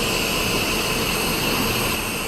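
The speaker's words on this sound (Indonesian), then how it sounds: "Pisan ini mengarah Pekanbaru teman-teman menggunakan mesin Hino ya teman-teman ya." Loud, steady roar of an intercity bus with a Hino RK engine, a dense unbroken drone with a whining tone on top, close by and with no talk.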